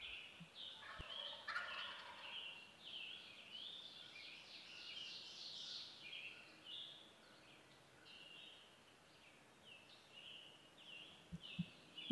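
A wild turkey gobbler on a roost in a hillside woods in Clarion County, Pennsylvania, gobbling in several rolling bursts at a distance, with faint clicks and a near thump at the start and end.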